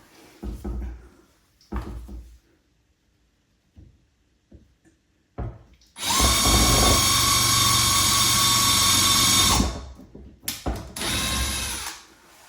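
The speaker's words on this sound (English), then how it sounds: "now that you drilled the pilot hole" A power drill whirs loudly and steadily for several seconds drilling a pilot hole in a cabinet, then gives a couple of shorter bursts, with scattered handling knocks before it starts.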